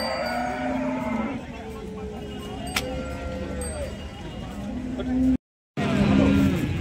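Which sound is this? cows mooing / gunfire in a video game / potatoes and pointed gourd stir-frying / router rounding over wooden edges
cows mooing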